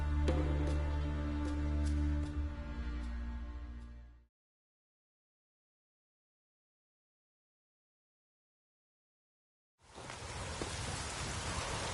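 Rain in the Skellige region of the video game Witcher 3: a tonal musical passage fades out, several seconds of silence follow, then a broad, steady hiss of rainfall begins abruptly and continues.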